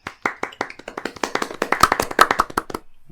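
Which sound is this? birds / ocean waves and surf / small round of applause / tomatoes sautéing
small round of applause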